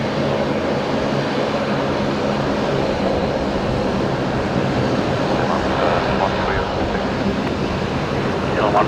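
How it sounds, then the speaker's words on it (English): A Link Airways Saab turboprop flies back into Brisbane airport, a moderate, steady engine drone with an even rumble that lasts throughout, heard at some distance with a voice speaking over it. "Got another Saab, another Link Airways Saab."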